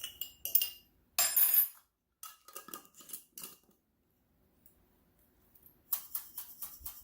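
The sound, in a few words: spoon mixing homemade seasoning in a jar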